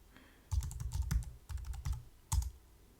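Password typed on a computer keyboard, a quick burst of close keystrokes, a pause, then a few more taps ending in a firmer final press.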